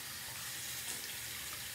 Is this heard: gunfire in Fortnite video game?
no